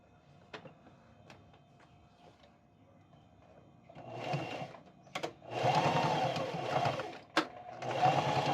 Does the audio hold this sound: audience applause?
no